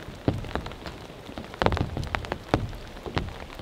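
Steady rain pours onto an Alps Mountaineering Stealth 1 bivy tent outdoors, a dense continuous patter broken by louder individual drops striking the fabric nearby.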